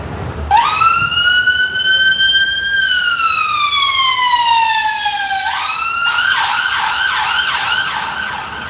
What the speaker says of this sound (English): I had to let the ambulance through.